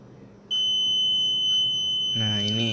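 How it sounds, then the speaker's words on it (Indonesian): An IoT gas alarm's buzzer starts with a sudden steady high electronic tone and holds it without a break; near the end a person begins speaking over the continuing buzz. "maka buzzer akan berbunyi"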